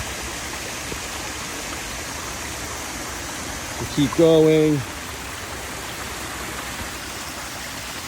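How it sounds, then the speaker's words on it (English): Steady rushing of waterfalls falling into a pond fills the whole stretch, with a brief spoken phrase from a nearby voice partway through. "You can see the waterfalls heading down."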